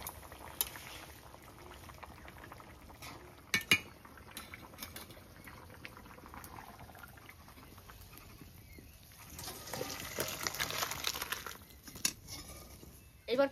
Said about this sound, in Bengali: এইবার তার আগে মাছগুলো দিয়ে দিই।